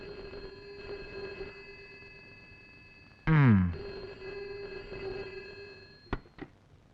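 A telephone rings with a steady electronic tone, interrupted midway by a short loud burst of another sound, then a few sharp clicks near the end.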